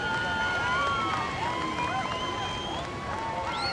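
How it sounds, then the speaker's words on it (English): Crowd at the Rip Curl Pro Bells Beach surfing contest making distant cheering and whistling, a diffuse roar under commentators talking over it. "the crowd making plenty of noise"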